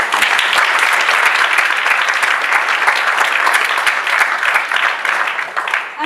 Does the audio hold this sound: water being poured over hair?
no